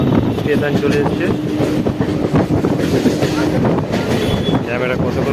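A train rolls along the tracks near Bagnan with a continuous loud rumble and rattling wagons, wind buffeting the microphone as it pulls into a station, with faint voices underneath.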